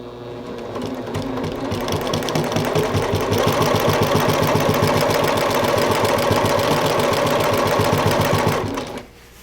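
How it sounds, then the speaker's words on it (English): A sewing machine stitches through a quilt in a steady, rapid rhythm, running continuously for several seconds at close range before stopping abruptly near the end. "So now I'm just going to start sewing."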